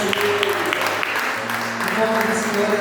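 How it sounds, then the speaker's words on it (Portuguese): A church congregation applauds during a worship service, a wash of clapping heard under voices that carry tonal speech or singing over it. "as palmas para Jesus"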